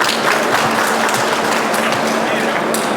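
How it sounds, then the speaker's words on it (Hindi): Crowd at a political rally for a legislator's Congress ticket bursts into continuous clapping for the speakers, loud and dense throughout, with a faint voice or hum underneath. "एक बार तो उनके लिए तालियाँ बजा दो"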